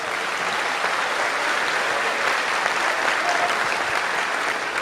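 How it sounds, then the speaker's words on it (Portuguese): Church congregation applauding steadily for a pastor, a dense even wash of clapping throughout with no talk. "vamos aplaudir ao Senhor por esse servo de Deus"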